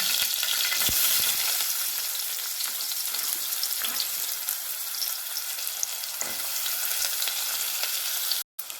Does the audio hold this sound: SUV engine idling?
no